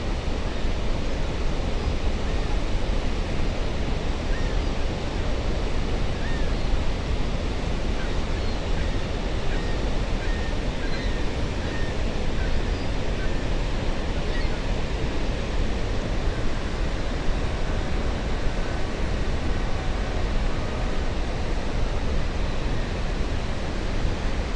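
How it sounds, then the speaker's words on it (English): A constant, heavy roar of rushing water fills the whole stretch, broad and unchanging, heard from nearby at the American Falls of Niagara Falls. "Well, here's the American Falls."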